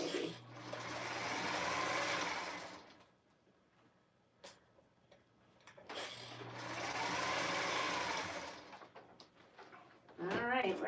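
A sewing machine runs in two sustained bursts of rapid stitching through thick quilt layers, pausing quietly between them, with faint clicks and a soft voice near the end.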